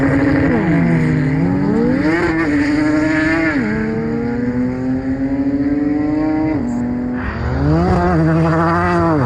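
A tuned 1130 bhp Porsche 991 Turbo S runs flat out on a no-lift pass, its engine note climbing loud and hard through several quick gearshifts, each marked by a brief dip before the pitch rises again.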